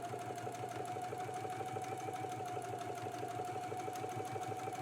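A sewing machine top stitches along the upper edge of a pocket flap, a continuous, even whirring hum with a rapid, regular needle rhythm, close and steady throughout.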